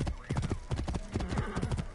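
Horse hooves clip-clopping in the video game Assassin's Creed Origins, a brisk uneven run of sharp hoof knocks with a brief whinny, close and loud, with a voice faintly under it.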